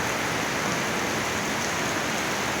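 Heavy Diwali-season rain falls as a steady, dense hiss that fills the whole stretch evenly, with no voices over it.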